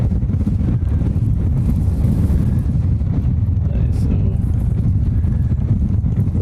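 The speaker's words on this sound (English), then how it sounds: "The wind has been so calm for the last 20 minutes, and all of a sudden I got a pan again and it picks up." Gusty wind buffets the microphone outdoors at an airport plane-spotting spot, a loud continuous low rumble that rises and falls with faint traffic underneath.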